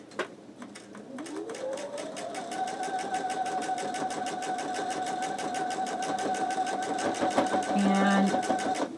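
A sewing machine fitted with a quarter-inch seam guide foot spins up and stitches steadily. Its close, continuous whirring drone holds at an even pace with a rapid needle rattle. A voice is heard faintly underneath.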